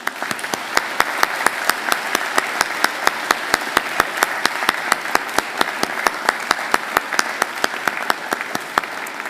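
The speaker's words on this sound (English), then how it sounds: "give them a mighty round of applause" Audience applause at a university graduation ceremony in a large hall, steady dense clapping from many hands sustained throughout, with no talk over it.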